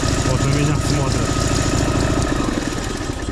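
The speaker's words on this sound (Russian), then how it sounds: "Мотоцикл работает, на меня смотрят все." A motorcycle engine idles by a lake with a loud, steady rumble that fades slightly toward the end, while someone talks over it.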